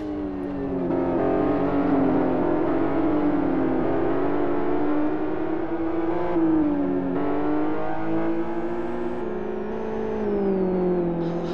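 Ten GT2-class race cars circle a South City circuit in qualifying, a steady, loud engine drone with shifting pitch as cars rev and pass, continuous throughout with no talk.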